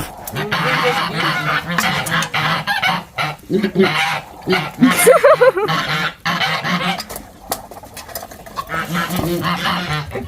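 Ducks on a small duck farm, quacking in a loud, close, busy chorus of repeated honking calls, with people talking nearby over the flock.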